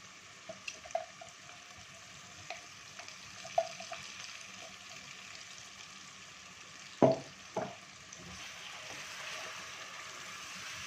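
Tomato and chili paste frying in a pan for achar gosht, a steady low sizzle with occasional pops and a couple of louder stirring clatters midway, no talking.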